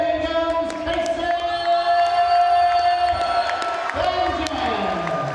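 A local crowd at a boxing fight night cheers and whoops after a European title undercard bout, a broad sustained roar with a tonal hum running through it, under talk.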